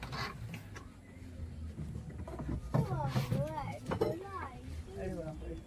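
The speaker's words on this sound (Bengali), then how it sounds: "আমরা এখন বোটিং স্টার্ট করেছি" Boat ride on the lake at Mukutmanipur, soft water and hull sounds under a low rumble, with people talking and a voice rising over it partway through.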